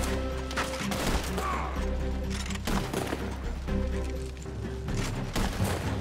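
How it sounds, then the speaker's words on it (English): Gunfire in the Red Dead Online video game, fired through trees: several sharp, loud shots ring out at irregular intervals over a steady background hum. "So just take your time and pop shots through the trees."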